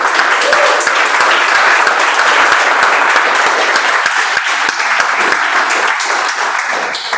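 A meeting audience welcomes a speaker with loud, sustained applause, many hands clapping densely and evenly throughout, close and full, thinning slightly toward the end with no speech.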